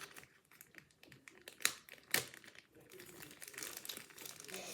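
Smartwatch packaging is opened nearby with faint plastic crinkling and two sharp crackles, while a quiet voice talks over it.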